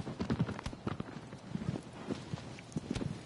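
Steady clip-clop of horse hooves in the video game Shadow of the Colossus, a close, uneven trotting rhythm of many hoof strikes with no talk.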